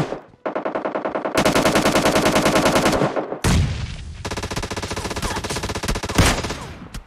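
Loud automatic gunfire from the PUBG Lite battle royale game, long rapid bursts of shots broken by brief pauses, close and dominant with no talking.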